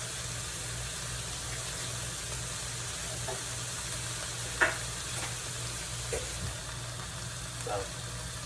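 Egg whites scrambling in a hot pan, seasoned with Mrs. Dash table blend, give a steady sizzling hiss throughout, with a few soft scrapes and clicks from stirring.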